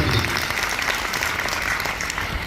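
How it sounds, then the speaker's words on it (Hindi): An audience at a business gathering breaks into loud, sustained applause for Rajeev Kumar, a dense wall of clapping that holds steady from start to finish. "एक जोरदार ताली होनी चाहिए महाबली"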